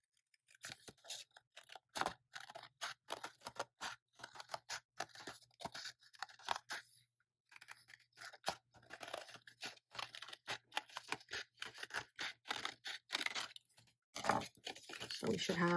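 Scissors snipping a U shape in paper for a black cat craft, a run of crisp close cuts in quick bursts with brief pauses and a faint hum beneath.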